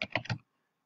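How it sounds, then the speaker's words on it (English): Quick burst of about four keystrokes on a computer keyboard while entering placeholder data into a table, close and crisp, then silence. "I'm just typing in data as a placeholder."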